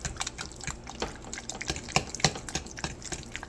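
Refried beans from a can being stirred with a little water in a bowl, giving soft, wet, irregular squelching and clicking strokes at a steady close pace, fairly quiet and with no talk.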